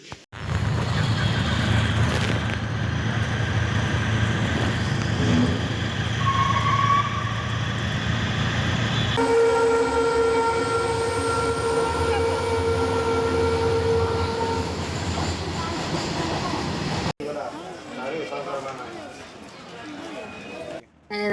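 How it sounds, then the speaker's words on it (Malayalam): A passenger train pulls into a station in Kerala with a loud continuous rumble and clatter of wagons, a sustained horn-like tone midway, and voices talking over the noise before it drops off near the end. "നമ്മുടെ ട്രെയിൻ വന്നുകൊണ്ടിരിക്കുന്നു."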